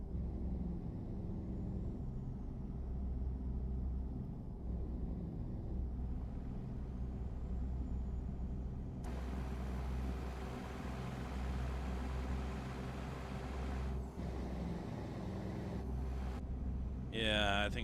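A heavy truck engine drones steadily at low pitch throughout, with a brief hiss of air near the end.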